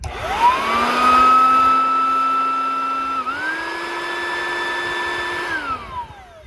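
Riccar Supralite upright vacuum cleaner with a newly replaced fan switches on and runs steadily, motor whine rising to a constant loud drone, briefly dipping midway, then winding down at the end.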